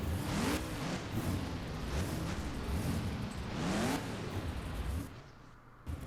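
Monster trucks from the BeamNG game racing side by side, engines revving loud and continuous with rising and falling pitch sweeps, fading near the end.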